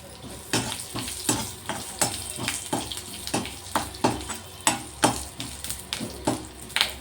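Garlic goes into cumin seeds dry-roasting in a pan for a curry-leaf chutney. A spoon scrapes in quick, regular strokes about twice a second over a light sizzle, close up with no talk.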